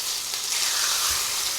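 Chicken pieces sizzle in a frying pan, a short steady hiss and crackle of frying close up with no talking.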